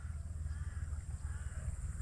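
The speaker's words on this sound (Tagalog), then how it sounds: "Sobrang dami pong uwak." Crows caw faintly in the distance over a farm plot, nearly buried under a steady low drone.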